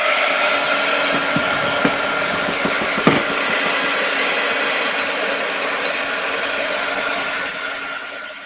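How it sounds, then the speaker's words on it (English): Steady, close whoosh of a dryer blowing over wet paint for the whole stretch, with a couple of faint clicks and no talking. "I am going to dry that real quick."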